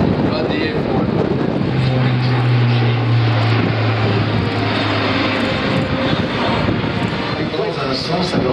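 The four turboprop engines of an Airbus A400M roar loud and constant in flight with a steady droning hum, and someone talks over the engine noise.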